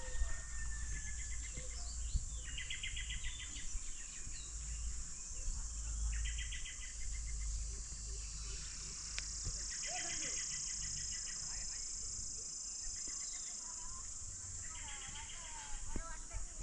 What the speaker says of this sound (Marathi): आणि पाखरांचा किलबिलाट वगैरे मस्त आवाज येतो आहे.